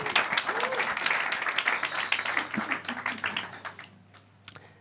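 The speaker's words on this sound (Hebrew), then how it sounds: "אפשר מחיאות כפיים." Audience at a stand-up comedy show breaks into loud, sustained applause and clapping that fills the room, then thins out and fades to near silence before one last sharp tap.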